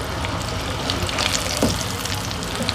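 Carrot and potato kababs shallow frying in oil, a dense, even sizzle and crackle close by, continuous for a few seconds with a faint stir partway through.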